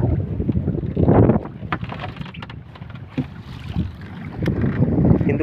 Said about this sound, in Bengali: আর প্রচুর হাওয়া বইছে,